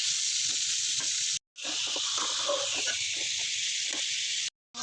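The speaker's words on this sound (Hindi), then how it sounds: "अब मैं इसमें ऐड कर रही हूँ मटन और मैं इसको अच्छी तरह से भूनूंगी" Mutton frying with spices in a pan gives a continuous hissing sizzle with soft stirring scrapes, broken by two short gaps of silence.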